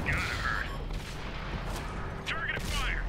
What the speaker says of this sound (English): that KB2 just got ate up by all these freaking cannons going off